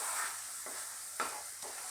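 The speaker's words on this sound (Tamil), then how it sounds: "கொஞ்சம் கொஞ்சமாக நெய் ஊற்றி கிளறிக்கலாம்" Grated carrot halwa being stirred with ghee in a pan, soft repeated scraping strokes over a faint steady sizzle, close and quiet.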